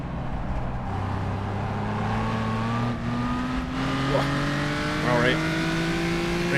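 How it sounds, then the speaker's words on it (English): A historic race car engine revs out in third gear at Le Grand during a road racing championship round, a loud, steadily rising drone heard from on board with the pitch climbing throughout, a brief tire squeal, and a voice talking over it. "Just let it rev out."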